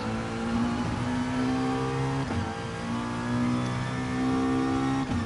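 Race car engine in a racing game, a loud, steady mid-pitched drone with distinct harmonic tones that dip briefly at gear shifts and climb again as it accelerates, heard alone without talk.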